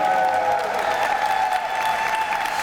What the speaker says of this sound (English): Let's give Kelly a round of applause for organizing this amazing event.